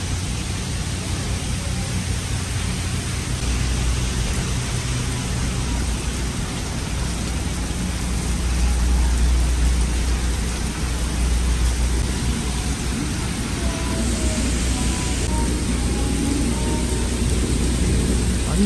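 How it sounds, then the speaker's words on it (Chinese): Heavy rain falls steadily and loudly in Penang, a dense, unbroken wash with low rumbling thunder underneath and no talking. "下大雨"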